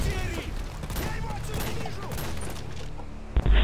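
Continuous rattling gunfire fills a Modern Warfare 2 Spec Ops firefight, loud and unbroken shots layered with mechanical clatter, capped by a sharp burst near the end.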